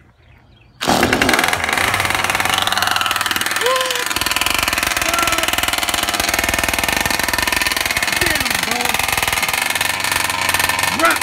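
A nitro-fuelled RC model car engine being broken in fires up and runs loud and steady, its buzzing drone rising and falling as the throttle is worked, with people talking faintly beneath the noise.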